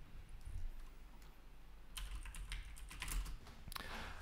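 Computer keyboard typing, scattered keystroke clicks that grow busier in the second half, fairly close over a steady low background hum.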